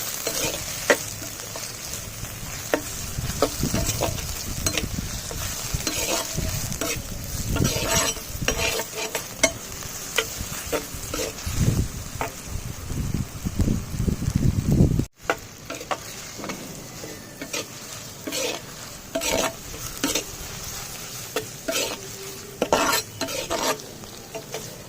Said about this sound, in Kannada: ಎಲ್ಲವನ್ನು ಚೆನ್ನಾಗಿ ಫ್ರೈ ಮಾಡಬೇಕು. ಒಂದು 5 ನಿಮಿಷಗಳ ಕಾಲ ಚೆನ್ನಾಗಿ ಫ್ರೈ ಆಗಲಿ.